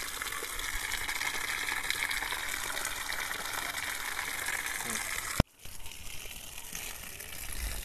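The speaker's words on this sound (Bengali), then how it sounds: "এখন আমরা কাঠকরবী গাছে জল দিচ্ছি।" Water pours steadily onto oleander plants in a garden, a continuous rushing gush that cuts off abruptly near the end and then resumes more faintly.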